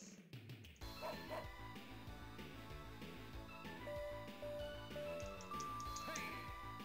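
Playful dog yips and bow-wow barks from a dog minigame in an arcade-style video game, repeated over a busy, bouncy game music track that continues throughout.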